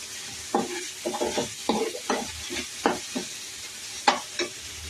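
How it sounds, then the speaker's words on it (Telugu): Onion paste frying in a pan for a curry gravy, stirred in a run of short scraping strokes over a steady soft sizzle, close and fairly loud, with no talking. "మన ఉల్లిపాయ పేస్ట్ అయితే ఆల్మోస్ట్ వేగిపోయి వచ్చింది"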